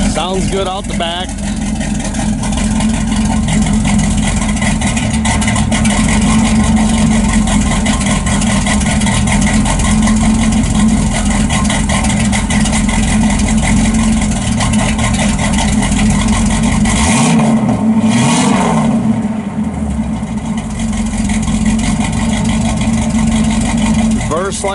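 A 1968 Pontiac Firebird 400 convertible with dual Flowmaster exhaust and a transverse muffler idles on a cold day, giving a steady, loud, close burble that holds throughout, with a brief disturbance near the end.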